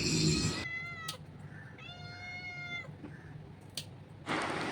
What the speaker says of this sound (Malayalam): നമ്മുടെ പൂച്ചക്കുട്ടന്മാരും പൂച്ചക്കുട്ടികളും എല്ലാം ഇങ്ങനെ വന്ന് വിളിക്കുന്നുണ്ട് മീൻ തലയ്ക്ക് വേണ്ടിയിട്ട്